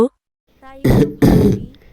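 A man coughs twice in quick, loud, close bursts, after a short voiced sound.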